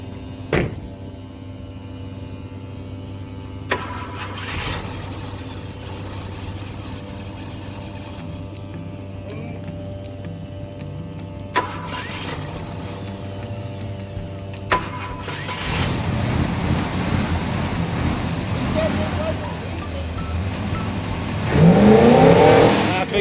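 A 1967 Ford Thunderbird engine idles steadily after starting, with brief clicks along the way, then rises into louder revving near the end, close by and without talk.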